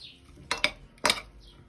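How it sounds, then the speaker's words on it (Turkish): A few sharp clinks and scrapes of utensils against a bowl while mixing a salad, irregular and close, with quiet pauses between. "Şimdi bunları da güzel bir şekilde karıştıracağım ve artık hazır hale gelecek."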